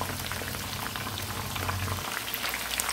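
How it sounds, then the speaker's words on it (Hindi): Chicken lollipops deep frying in oil on a high flame give a dense, steady bubbling sizzle throughout, close and even, with a low background hum that drops out partway through. "5 मिनट के लिए या इसके अच्छा कलर आने तक हम इसको हाई फ्लेम पर फ्राई कर लेंगे।"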